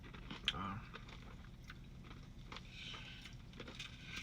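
Crunchy cotton candy DQ Blizzard ice cream being chewed close up, soft faint crunching bites with a brief louder crunch near the start, with no talking.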